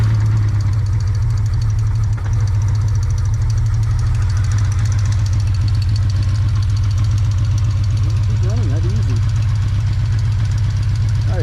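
A Honda VF750 motorcycle engine idles steadily while warming up before a carburetor sync, a continuous low, even rumble with a fast, regular pulse that holds throughout, loud and close.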